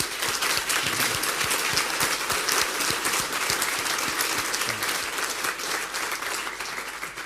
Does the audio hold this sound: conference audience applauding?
yes